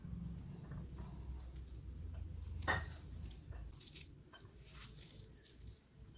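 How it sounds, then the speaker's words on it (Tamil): Water poured in small amounts into onion vada batter in a bowl, a soft close wet trickle with one brief louder splash, alone with no talk. "அது இப்போ தேவையான அளவு சும்மா தண்ணி ஆட் பண்ணிக்கிறேன்."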